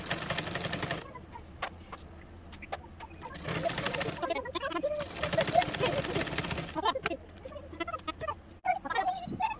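A sewing machine stitches elastic onto pajama fabric in short, uneven bursts of rapid whirring. A person speaks between and over the runs of stitching.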